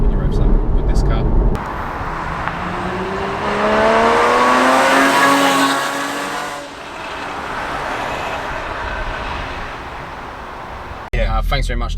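A Porsche Cayman engine revs hard while driving, rising and falling through the gears with loud, sustained mechanical sweeps that climb in pitch, then settle back before a sharp cut at the end.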